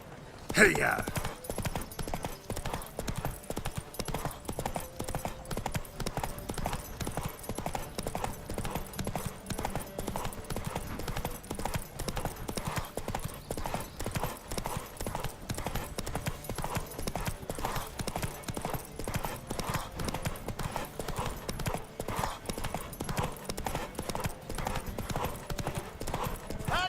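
Horses galloping in a race in The Witcher 3, a fast steady clip-clop of hooves throughout, loud and continuous, with occasional voices shouting over the hoofbeats.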